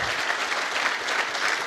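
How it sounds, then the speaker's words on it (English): Conference audience at PyCon AU applauding lightning talk presenters, a brief, even burst of dense crowd clapping heard alone. "Give them all a huge round of applause."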